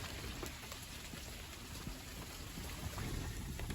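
Rain falls steadily while a Kia drives a dirt road off-road. It makes a dense, unbroken hiss with a low rumble underneath that stays loud and close throughout.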